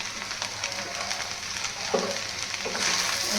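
Fried rice with soy sauce sizzling in a pan while being stirred, a steady hissing fry with occasional scraping clinks of the utensil, close and even throughout.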